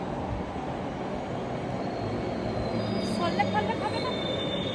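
A Kolkata Metro train rumbles and squeals along the tracks, a steady mechanical roar with a faint high whine, heard from nearby on a platform.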